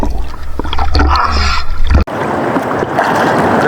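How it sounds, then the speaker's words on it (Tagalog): Big sea waves splash and gurgle around a small fishing boat, loud churning water with a sharp break midway, then continuous rushing wash. "Grabe yung alon, malalaki na."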